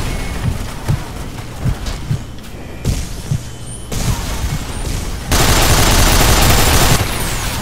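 The Avenger gun firing in Nuclear Dawn: a rapid run of evenly spaced heavy thumps, then a loud, sustained roaring blast of fire near the end, close and unaccompanied by talk.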